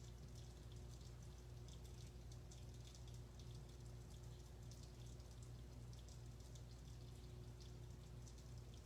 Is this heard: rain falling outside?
yes